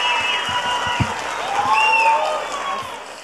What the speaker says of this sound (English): Please give these kindergartners a great big round of applause.